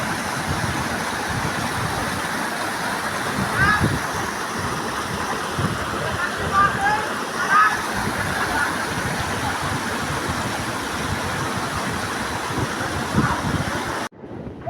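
A river with a small waterfall flows steadily outdoors, a dense continuous rush of water with some wind buffeting the microphone, ending in a sudden cut.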